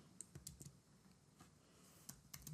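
Short bursts of typing on a computer keyboard while entering HTML code, with scattered clicks and small clusters of keystrokes that sound close, fairly quiet and without speech.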